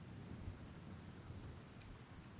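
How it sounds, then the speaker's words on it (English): Steady heavy rain with a low rolling rumble of thunder throughout a night thunderstorm, a dense continuous wash of sound, fairly faint and with no voices. "There was a thunderstorm that night"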